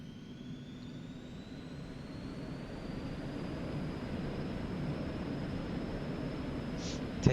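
An Eclipse 550 business jet in X-Plane 11 rolls down the runway for takeoff, its engines giving a steady roar beneath a thin, high whine that slowly rises in pitch as power builds, with no talking.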